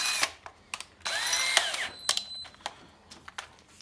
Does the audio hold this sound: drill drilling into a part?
yes